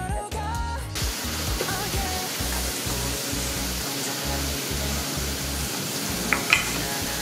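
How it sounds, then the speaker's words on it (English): Garlic in oil in a pan starts to fry over medium heat for garlic fried rice, giving a steady soft sizzle with intermittent stirring scrapes and a few louder pops near the end. "after you add the oil and the garlic, then turn the heat to medium"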